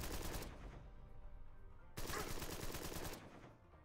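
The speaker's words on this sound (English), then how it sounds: "Oh, you were firing on Minerva?" Rapid bursts of gunfire in the turn-based crime strategy game Empire of Sin, two dense volleys of shots separated by a brief lull, loud and close with no talking.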